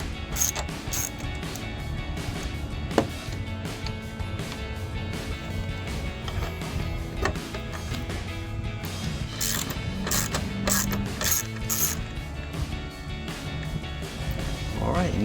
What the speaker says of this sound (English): Now while you're down here, you're gonna switch over to your 8mm socket.